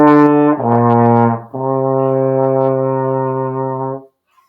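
Solo trombone plays the closing phrase of a waltz, a short note sliding into a long sustained dotted half note, loud, close and warm, alone without any talking.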